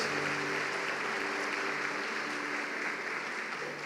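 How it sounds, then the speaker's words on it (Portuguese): Sustained applause from a large church congregation during a worship service fills the space, a dense, even wash of clapping that holds steady before easing slightly at the end. "Dê um aplauso a Ele"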